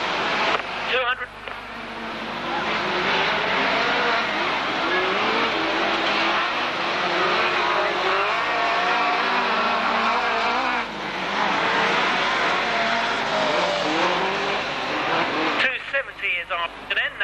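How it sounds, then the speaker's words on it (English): Rear-wheel drive hot rods race at high speed on an auto club track, engines roaring loudly and continuously with rising and falling pitch, while a commentator talks over the noise throughout. "The race well and truly underway, and it's high-speed stuff from a good build of rear-wheel drive hot rods."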